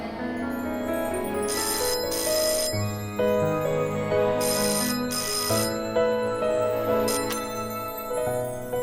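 A phone ringtone sounds for an incoming call, a loud, close, repeating melodic electronic tune that plays steadily for several seconds with no talk.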